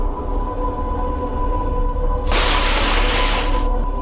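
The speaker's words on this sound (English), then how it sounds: "the chandelier drops just where you were standing moments ago and shatters on the floor" A chandelier crashes down and shatters on a floor, a sudden loud burst of breaking glass lasting just over a second over a steady low background hum, then cutting off.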